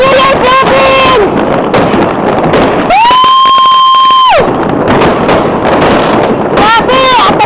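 A New Year fireworks display in Copenhagen, Denmark, with sharp crackling bursts and booms popping in quick clusters. It is loud and close, with excited voices and whistling tones mixed in.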